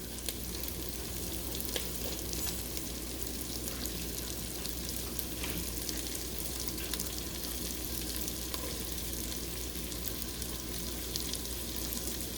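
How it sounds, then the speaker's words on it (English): Vegetables sautéing in bacon grease for a potato corn chowder, a continuous even sizzle close up that holds steady throughout with no voices. "into the bacon grease, and that is what we're going to saute that, get that going"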